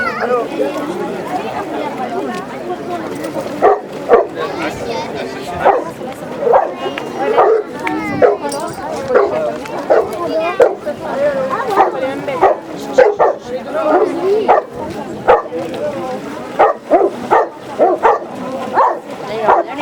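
A dog barks and yips in short bursts throughout, mixed with whimpering, while people talk close by.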